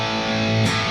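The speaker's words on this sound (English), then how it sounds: "you can hear a little bit of slap back delay there and some reverb" A gainy electric guitar tone through an HF Origin 50 modded amp with slapback delay and reverb, a single sustained distorted chord ringing out alone, fairly loud.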